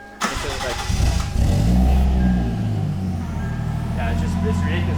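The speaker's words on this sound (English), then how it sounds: "Fire up your new car for the first time." A turbocharged 1JZ engine in a Lexus IS300 cranks and catches, then settles into a steady idle with a faint high turbo whine. Voices talk over it.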